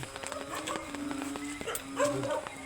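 Several dog barks and yips ring out at a moderate distance during a typhoon at night, scattered irregularly over a steady background hum.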